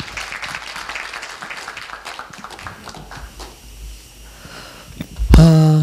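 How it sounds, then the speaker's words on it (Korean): Scattered clapping from an audience at a Korea University business school opening event as a venture forum vice-chair steps up to give congratulatory remarks; light and uneven, it thins out over a few seconds before a short electronic tone. "박수로 맞아주시기 바랍니다"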